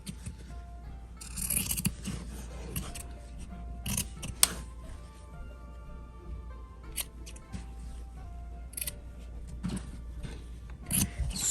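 Scissors snip around a sewn fabric bag piece in short bursts of quiet, close cutting sounds spaced irregularly, with light rustling of the cloth between cuts.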